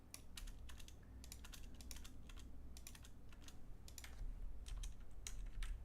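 Rapid typing on a computer keyboard, clusters of sharp key clicks in quick bursts over a low steady background hum.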